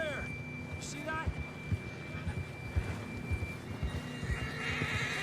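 Horse in a Western video game, whinnying near the start, then clip-clopping hooves in an uneven rhythm over a low ambient hum, with soft voice-like sounds mixed in.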